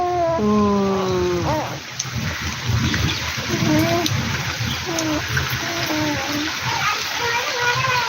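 Rain falling in a village, a steady dense patter and splashing throughout, with people talking and singing over it.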